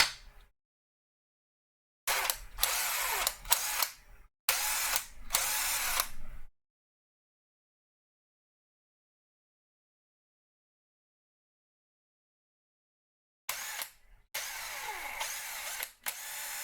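A Makita cordless drill powered by a repaired BL1013 battery whirs in three loud bursts of roughly two to four seconds each, separated by silence, with the last burst split into short spurts.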